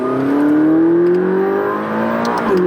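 2018 McLaren 570S Spider in second gear, turbocharged engine rising in pitch as it accelerates hard, loud and steady throughout with a smooth climbing whine.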